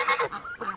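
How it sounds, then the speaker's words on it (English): Ducks kept near a kennel set-up give a short run of loud, close nasal honking quacks, several calls in quick succession. "Here come some more of the ducks."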